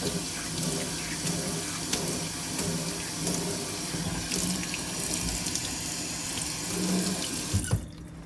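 Water from a kitchen tap pours steadily into a blender jar that holds ice, as the jar is rinsed to clean the blades. The splashing, hissing flow is loud and close and stays continuous for several seconds, then cuts off abruptly near the end.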